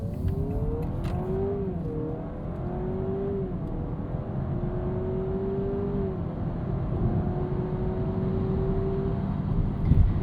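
A 2026 Honda Prelude coupe accelerates in S Plus mode. The engine drone climbs steadily in pitch, with a couple of brief dips like shifts, heard from inside the cabin over constant road noise with no talking.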